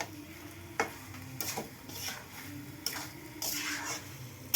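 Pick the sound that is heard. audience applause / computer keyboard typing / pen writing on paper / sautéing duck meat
sautéing duck meat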